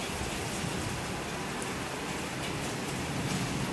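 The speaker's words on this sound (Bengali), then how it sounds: "এত সুন্দর বৃষ্টি।" Heavy monsoon rain pours down in Dhaka, Bangladesh, a dense, unbroken wash of noise that stays steady and close throughout, with no voices.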